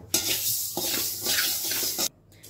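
Fenugreek seeds dry-roast in a pan, giving a dense, even rustling hiss with soft stirring scrapes for about two seconds before it cuts off abruptly.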